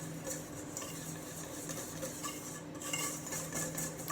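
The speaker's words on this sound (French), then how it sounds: "Et ensuite, avec le fouet, je mélange." A whisk stirs dough ingredients with dry baker's yeast in a bowl for a spinach and goat cheese tart, making a steady close scraping and clinking rhythm throughout.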